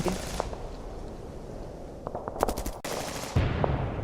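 MG42 machine gun fire in a WWII battle scene, short sharp bursts of rapid shots, moderately distant, amid background noise.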